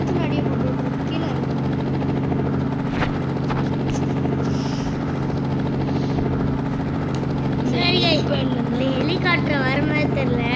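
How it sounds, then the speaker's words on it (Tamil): In the video game Indian Theft Auto Simulator, a steady helicopter rotor drone with a low mechanical hum runs throughout, with faint voices over it. "இதோ அங்கே ஒரு ஹெலிகாப்டர்."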